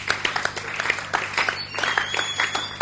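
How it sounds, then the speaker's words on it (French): Congregation applauding during a church broadcast, steady dense clapping that swells and fades for a few seconds, with a faint voice underneath. "Est-ce qu'on peut acclamer les Seigneurs?"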